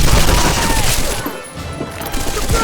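Loud, dense bursts of automatic gunfire from a PS2 shooter played on the PCSX2 emulator, crackling rapidly throughout with a brief dip in the middle.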